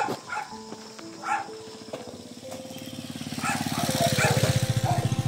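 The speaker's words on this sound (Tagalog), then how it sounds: "motor na dumadaan mga tol" A motorcycle approaches on a mountain road, its buzzing engine rising from faint to loud and near with a rapid pulsing beat, while dogs bark and voices are heard early on.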